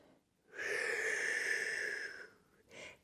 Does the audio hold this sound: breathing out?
yes